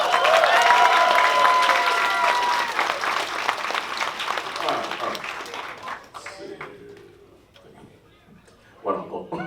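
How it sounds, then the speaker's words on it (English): A live audience at a gaming convention claps loudly for several seconds, then the applause fades away and quiet talk takes over. "Give them a round of applause."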